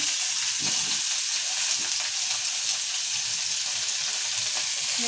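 Onions and tomatoes fry in hot oil for a home-style aloo batani masala curry, giving a steady, loud, even sizzle with occasional faint stirring scrapes underneath.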